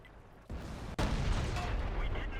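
A tank cannon fires in World of Tanks with a sharp, loud boom at about one second, followed by sustained battlefield rumble and distant shelling noise.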